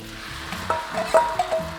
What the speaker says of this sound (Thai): ลงไปผัดเลยครับ เอาเส้นก่อน